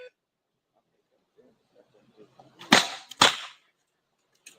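Two sharp, loud gunshots ring out about half a second apart at a competitive shooting match, following quiet murmuring and light movement noise in the background.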